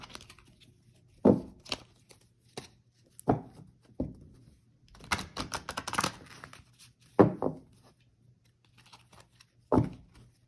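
Cards are shuffled and tapped in scattered bursts: soft slaps, a quick riffle-like flurry in the middle, and a few separate thumps over a low hum.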